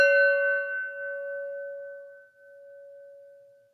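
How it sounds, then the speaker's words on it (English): A single meditation chime struck once, its clear bright tone ringing out and slowly fading over a few seconds in near silence, with no voices. "focus on the sound of the chime"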